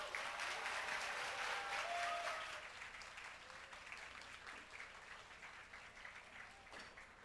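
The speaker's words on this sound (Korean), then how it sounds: "큰 박수로 맞이해 주시죠." An audience at a university talk concert applauds as a comedian host is welcomed onto the stage, a loud continuous burst of clapping that gradually thins and fades to a lighter patter toward the end.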